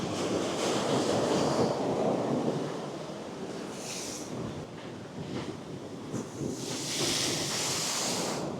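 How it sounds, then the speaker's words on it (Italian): Rough sea waves crash and surge beneath a seaside walkway on the south coast of Gran Canaria, a loud, continuous roar with wind buffeting the microphone, swelling at the start, easing briefly, then rising again in a bright rushing break near the end; no voices. "Hai visto che bella onda che è arrivata?"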